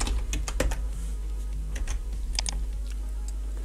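Keys on a computer keyboard are tapped out at a steady, moderate pace while an expression is typed into After Effects, with a low hum underneath and no talking.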